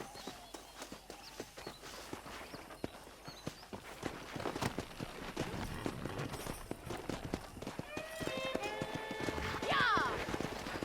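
Horses gallop with rhythmic hooves clip-clopping in the Red Dead Redemption video game, the pounding building louder toward the end, with a neigh near the close; voices speak over the action.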